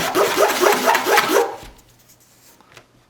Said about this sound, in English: Quick sanding to knock down the edges.